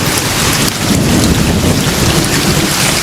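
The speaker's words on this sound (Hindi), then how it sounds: "पानी की तेज बारिश प्रारंभ हुई।" Heavy rain pours steadily and loudly throughout, a dense continuous roar of water on surfaces with no voices.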